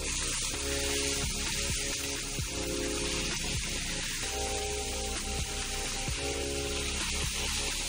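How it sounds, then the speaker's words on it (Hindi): Chicken frying in a pan with onions for a jalfrezi, a steady loud sizzle with faint scraping clicks throughout. "चिकन डाल दिया, इसको फ्राई करना है।"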